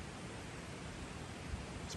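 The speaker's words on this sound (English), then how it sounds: "Just the sound of the river." A river at a New Zealand campsite flows with a steady, even rushing hiss that fills the whole stretch without pause, no voices, just constant water noise.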